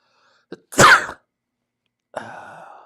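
A single sharp sneeze bursts out after a brief catch of breath, followed by quiet and then a short murmur.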